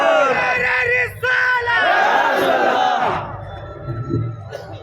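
A large gathering in Pune, Maharashtra loudly chants religious slogans in unison, two powerful shouted calls in quick succession before the voices fade into scattered murmuring.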